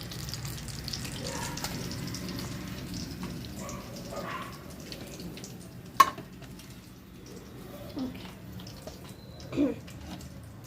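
Chicken pieces fry in oil for a home-made steam roast chicken, a faint continuous bubbling sizzle with a few soft clinks and scrapes throughout.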